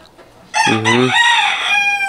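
A Clements Grey fighting rooster crows once, a loud, close, harmonically rich cock-a-doodle-doo rising sharply and trailing off over under two seconds, alone without talk.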